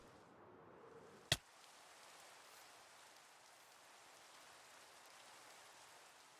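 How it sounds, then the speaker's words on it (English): Steady rain falls outdoors on a building site for a castle keep, a continuous soft hiss with one sharp close knock early on. "Unfortunately, it's raining."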